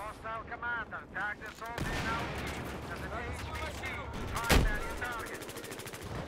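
Repeated weapon fire in Battlefield 4, a military shooter game, a sustained rattle of shots with one sharp loud blast partway through, heard under someone speaking.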